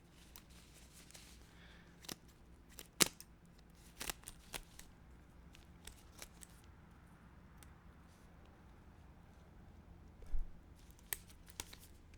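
Scissors snipping through paper in a quiet close-up ASMR setting, with a few sharp, isolated cuts scattered across a faint, hushed background and no talking.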